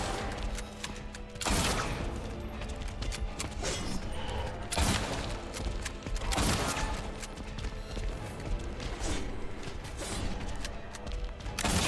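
Repeated gunshots in a boss fight in the video game Silent Hill 2, loud blasts recurring every second or two over a constant dense bed of game noise and clatter.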